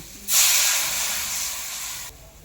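Water is poured onto a hot, oil-separated fried spice paste for a parshe fish curry. A loud, close steam hiss flares suddenly, eases slightly and holds steadily, then cuts off after about two seconds.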